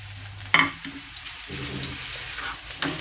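Chicken being stirred into spices in a pan, with soft sizzling under a few sharp scrapes and knocks of a spoon against the pan.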